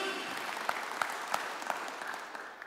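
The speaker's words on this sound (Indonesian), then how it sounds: "Tepuk tangan bagi Tuhan Yesus." A church congregation claps for Jesus during a sermon: fairly faint, steady applause with a few sharper individual claps standing out, heard at some distance.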